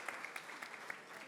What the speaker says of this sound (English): please give our honorable ministers a round of applause